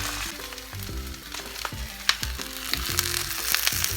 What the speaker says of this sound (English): Browning it just a little bit before you bake it.